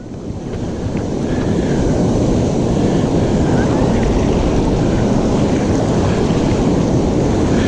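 Surf rolls and breaks on the Oregon coast at Lincoln City, a loud, continuous roar of crashing water close by, mixed with heavy wind buffeting the microphone.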